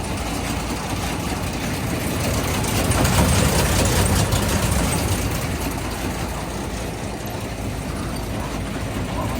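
A John Deere 955 combine harvester's engine runs at a steady, quiet idle, a continuous low mechanical hum and rumble that swells slightly midway, with no talking.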